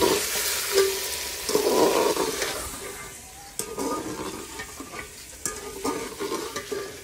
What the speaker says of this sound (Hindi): प्याजों के साथ और लहसुन अदरक के पेस्ट के साथ मैंने गोश्त की अच्छी तरह भुनाई कर ली है।